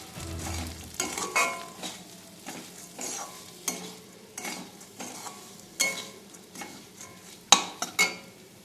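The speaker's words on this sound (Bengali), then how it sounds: "সমস্ত কিছু দেওয়ার পরে একটু এভাবে নাড়িয়ে চাড়িয়ে ডালটাকে ভেজে নিতে হবে।" Salted mung dal is stirred and fried in a pan for a Bengali bottle-gourd dal, with repeated scraping strokes of a spoon against the pan over a low, continuous sizzle, close and fairly quiet.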